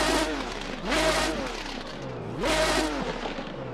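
A Lister Storm GT race car in a racing sim game, heard from outside, sweeps past twice, its engine note rising and falling in two loud revving swells over a low, steady rumble.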